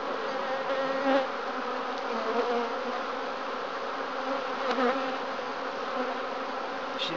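Honeybees buzz steadily around an open WBC hive during an inspection, a dense even drone of many insects close by, with no voices.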